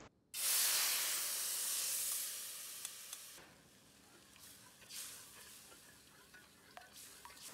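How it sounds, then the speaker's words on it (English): Sweet and sour sauce hits a hot wok with a sudden loud hiss and sizzle that holds steady, then settles to a softer bubbling sizzle with a few light clicks. "In the hot wok, add the sauce."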